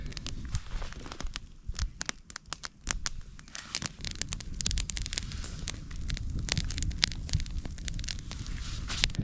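A campfire burns outdoors on a tiny island ahead of smoking trout, with dense irregular crackles and pops over a low rushing rumble, close and continuous, with no talk.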